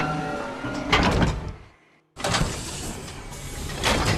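Double door in Minecraft swinging open with a grinding, rattling mechanical sound, a brief silence, then swinging shut with a similar loud drawn-out scraping noise.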